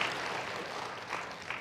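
Korean church congregation clapping at a revival meeting, a soft steady patter of many hands heard from a distance, fairly faint, with a couple of slightly louder swells.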